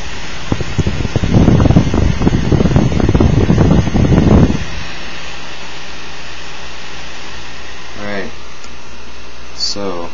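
A blower-style graphics card fan spun up to full speed gives a loud, steady broadband whoosh for about four and a half seconds, then drops to a quieter hum with a few faint chirps near the end.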